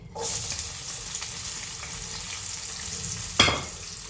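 Sliced onion rings sizzle and crackle steadily in a hot pan close by, with a brief scraping stir near the end.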